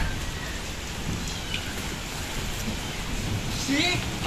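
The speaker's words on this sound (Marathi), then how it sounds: "पाऊस खूप आहे" Dense, steady hiss of heavy rain falling close by in a courtyard, continuous throughout with a slight swell toward the end.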